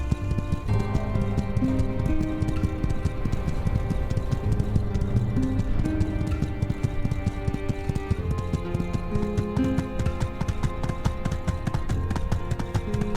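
Horse galloping in the game My Time at Sandrock, a steady rapid clip-clop of hooves running over a continuous game music bed, with no talk.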